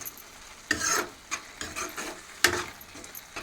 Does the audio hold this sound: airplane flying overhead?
no